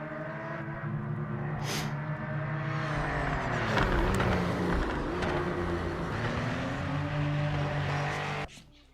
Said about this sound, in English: Or is that someone else doing burnouts still?